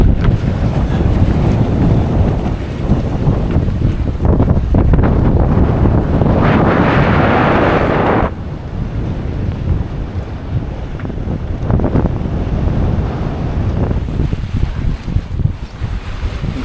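Sailboat heading upwind in Chesapeake Bay waters, with strong wind buffeting the microphone and waves sloshing against the hull, loud and continuous with gusty surges.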